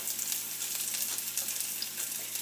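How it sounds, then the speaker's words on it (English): Onion rings sizzle steadily in olive oil in a pan over medium-high heat, a soft, even crackling hiss with faint pops, heard alone. "So we're going to slide the onions into the pan. I'm just separating the rings right now. Alright. So here's one onion. Nice and sizzly."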